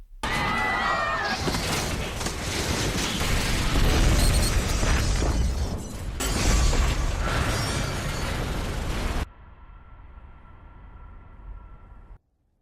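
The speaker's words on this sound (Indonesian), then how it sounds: "kereta pun meledak dan hancur" A car blows up in a film scene: a long, loud roaring blast with crackling debris and shattering glass, dense and sustained for several seconds, then cutting abruptly to a quieter low hum before falling silent.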